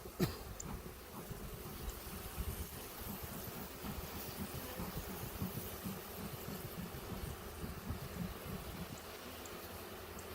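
A steady low drone of bees swarming across the hives of a beekeeper's yard, a continuous close buzzing with no voices over it.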